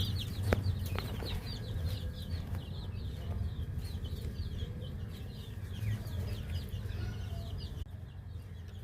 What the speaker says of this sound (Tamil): இதுதான் நம்ம கோழி குஞ்சு பார்த்துக்கோங்க.